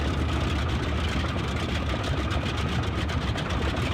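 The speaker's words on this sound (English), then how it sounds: "Definitely love the engine sounds in this plane." A Boeing 247D propeller engine idles in Microsoft Flight Simulator 2020 with a steady, loud, throbbing drone, continuous and unchanging throughout, with no voices.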